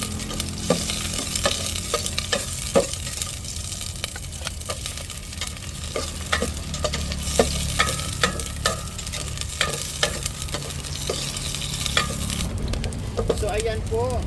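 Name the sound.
sautéing food in a pan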